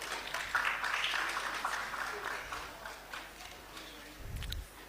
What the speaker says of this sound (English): Please, a round of applause again for her